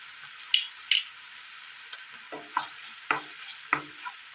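Salted tomatoes being sautéed in a pan for a Kerala curry: a quiet fry punctuated by a series of distinct spatula scrapes and taps at an uneven rhythm, close and without talk.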